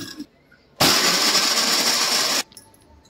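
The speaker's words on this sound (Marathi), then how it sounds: "आता याला आपण मिक्सर मध्ये थोडंसं फिरवून घेऊया" A kitchen mixer grinder whirs at full speed for about one and a half seconds, grinding Marie biscuits into crumbs, with loud, steady motor noise that starts and stops abruptly, with brief clatter before and after.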